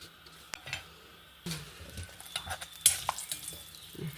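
Cumin seeds crackle and sizzle in hot ghee in a pan, with scattered pops and clinks of a spoon stirring against the metal. The sounds are close, short and irregular.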